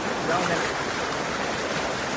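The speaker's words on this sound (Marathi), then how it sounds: "पण हे बघा प्रेशर पाणी" Swollen village river in the monsoon rushing hard under pressure, a steady broadband roar of churning water close by that fills the whole stretch without letup.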